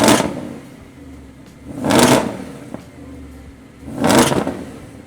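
A Mercedes SLS engine, started from inside the car, is revved to 3,500 RPM in three strong surges about two seconds apart, each swelling and falling back to a low idle between them.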